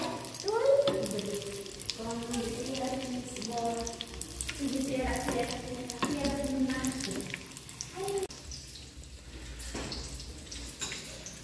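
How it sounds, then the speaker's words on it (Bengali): Cheese balls frying in a pan, a steady sizzle running throughout with a voice speaking over much of it. "আমি চিজ বলটা আলাদা করে আগে ভেজে নিচ্ছি"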